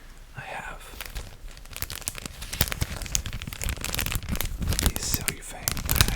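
Cellophane bags crinkle and rustle close up in a quiet ASMR setting, steady crackling handling that grows louder toward the end.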